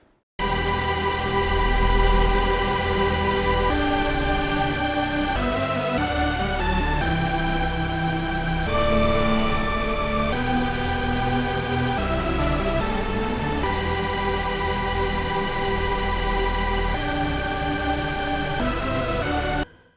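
Thick, layered dubstep synth chords, pitched down an octave, play continuously with a heavy low end, shifting through a progression at steady loudness for about twenty seconds.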